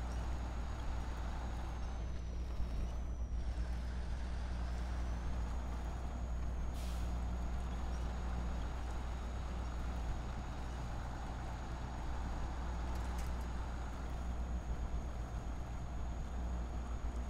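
The engine of a truck stuck deep in a pit in SnowRunner drones in a steady, continuous low rumble that strains without letup, moderately loud, with a faint whine and hiss above it and no talking.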